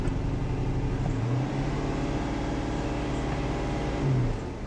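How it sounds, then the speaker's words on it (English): A V8 Dodge Charger being rebuilt, its engine running at a steady low idle with a rough, droning hum and a couple of brief swells in pitch, close by and without voices. "Start the car and see what happens."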